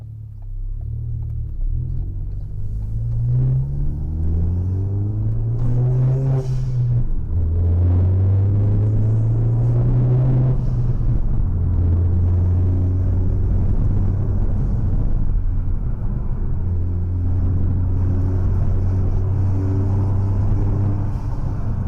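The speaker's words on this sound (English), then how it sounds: "I love the sound of this car." A 300 hp Ford Focus ST Mk3 climbs a hill, its engine droning loud and close from inside the cabin, revs rising through gears with several clear shifts and a steady rumble between, no talking.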